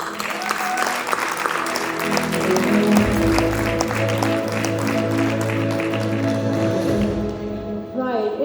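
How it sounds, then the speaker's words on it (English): An audience at a journalism awards ceremony applauds a winner, a broad, steady burst of clapping that sits under background music and room sound at a moderate, even level. "Big hand of applause for him"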